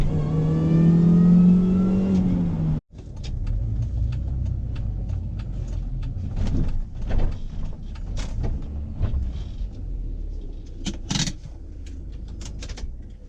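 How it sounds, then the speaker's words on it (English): A cheap Mini Cooper S is heard from inside the cabin, its engine revving up through the gears with a rising whine, then a steady mid-pitched drone of driving with small rattles and clicks. "A ride in the cheapest Mini Cooper ever."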